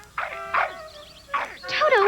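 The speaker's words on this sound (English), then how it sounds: "Toto, what are you barking at?" A cartoon dog barks in the 1982 Wizard of Oz anime, several short high yips and bow-wows in quick succession, close and clear with light background.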